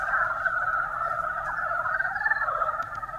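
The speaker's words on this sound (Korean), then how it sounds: "예비신랑 신부 개구리들이 모여가지고 되게 막 시끄럽게" Northern mountain frogs (Rana dybowskii) calling in chorus on a mountainside, a dense continuous clucking and croaking from many frogs overlapping at fairly close range, steady and loud without pause.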